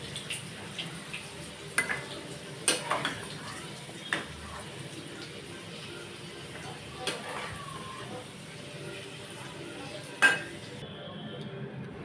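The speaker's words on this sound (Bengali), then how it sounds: "এবার আমি আলুগুলোকে তুলে নেব।" Fried potatoes are lifted out of a kadai with a metal utensil, giving several sharp scattered clinks and scrapes against the pan over a quiet low background.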